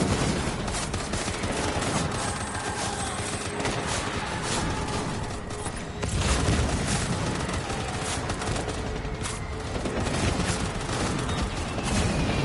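Sustained machine gun fire from the Death Stranding video game, dense overlapping bursts of rapid shots running continuously at close range with no pauses, loud throughout.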